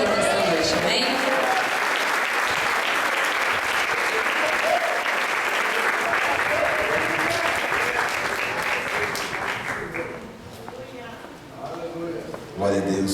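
A church audience at a spiritual warfare seminar breaks into loud, sustained applause with cheering voices mixed in, the clapping dipping briefly near the end before swelling again.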